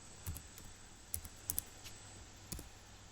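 A computer keyboard clicks softly and sparsely as a short command is typed, in a handful of quiet, irregular keystrokes with pauses between them.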